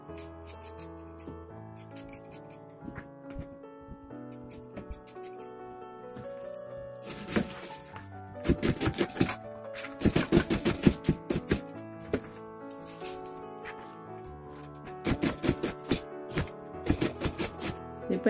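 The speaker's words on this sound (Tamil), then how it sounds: "ஒரு வெங்காயம் வட்டி போட போகிறேன்." An onion is sliced on a board for a Jaffna pumpkin and cassava curry, with quiet irregular knife chops in bursts and clusters of rapid cuts, close and fairly soft.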